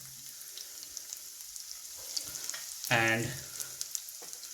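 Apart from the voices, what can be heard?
chopped garlic frying in a pan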